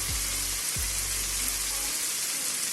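Pepper and cumin paste sizzles and fries steadily in hot oil in a pan, a continuous close hiss with a couple of low thuds early on and no talk.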